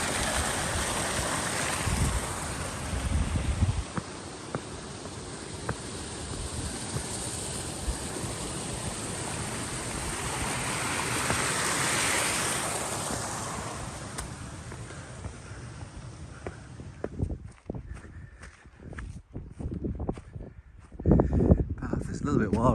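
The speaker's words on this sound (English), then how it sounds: "A lot of water coming out of the hills today." Broad rushing water runs off the hills on a Peak District hike, a steady wash mixed with wind buffeting the microphone, then footsteps crunch along the path near the end.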